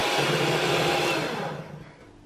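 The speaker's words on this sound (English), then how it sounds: "I'm just going to whisk it until it is completely thick and beautiful whipped cream" An electric whisk whips pouring cream in a bowl, a steady close whirring drone that holds for about a second and a half, then winds down and stops near the end.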